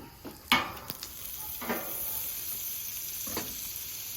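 Avocado oil and butter sizzle on a Camp Chef flat top griddle, a soft continuous frying hiss with a few sharper crackling pops, close by and fairly quiet with no talking.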